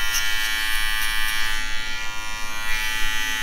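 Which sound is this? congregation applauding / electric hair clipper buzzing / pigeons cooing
electric hair clipper buzzing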